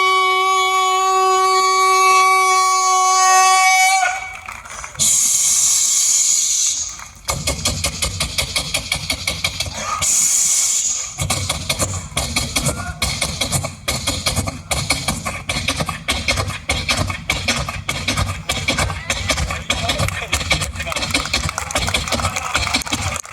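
A performer on a Holi kavi sammelan stage imitates a train with his voice, first with long sustained horn blasts, then a hissing release and a fast rhythmic chugging engine that keeps going, loud and close.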